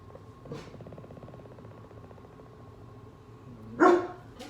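A pet dog barks indoors, two sharp separate barks about three seconds apart, the second louder and nearer, over a faint steady background hum.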